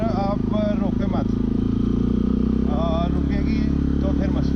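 Motorcycle engine straining up a steep, slippery mountain track toward Ganga Choti in Azad Kashmir, a steady loud drone that runs throughout beneath someone talking.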